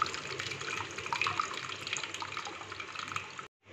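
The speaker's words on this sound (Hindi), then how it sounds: "इसे हमने वॉश कर दिया है, अब हम इसमें से अच्छे से पानी निकाल देते हैं।" Washed chhena for chum-chum squeezed by hand in cloth, water running and dripping out steadily at close range for a few seconds before stopping abruptly.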